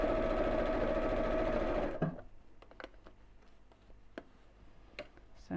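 Domestic sewing machine stitching steadily around a curved seam, a continuous close buzzing run that stops after two seconds, followed by quiet ticks and fabric handling.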